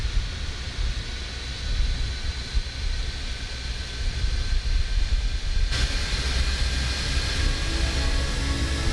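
Howl of CFM LEAP-1A jet engines on an airliner in Microsoft Flight Simulator, a steady broadband roar with a sustained high whine, loud and continuous throughout.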